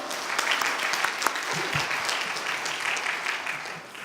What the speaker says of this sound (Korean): 하나님께 영광의 박수 올립시다.